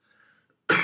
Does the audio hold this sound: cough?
yes